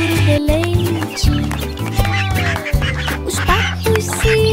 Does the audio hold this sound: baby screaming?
no